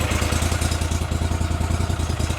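A Gator Tail 40XD Briggs mud motor on a Gator Tail 1750 Savage boat runs close by with a steady, rapid, rhythmic mechanical thrum and clatter, at an even, moderate level and with no talk.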